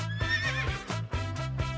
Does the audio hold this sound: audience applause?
no